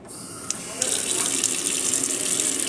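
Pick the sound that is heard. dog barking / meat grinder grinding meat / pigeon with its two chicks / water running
water running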